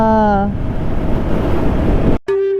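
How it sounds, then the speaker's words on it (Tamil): Wind roars steadily against a helmet while riding, a loud broadband rush that cuts out abruptly near the end, with brief tonal sounds just before and after it. "ஹெல்மெட் மேலே காற்று அடிக்குது"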